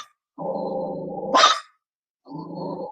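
A dog kept indoors for the day gives two loud, drawn-out, whining bark bursts, close to the mic, separated by a short silence. No one talks.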